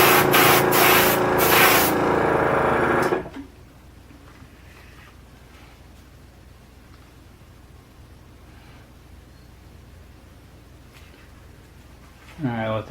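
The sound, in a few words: spray painting a coat on a model kit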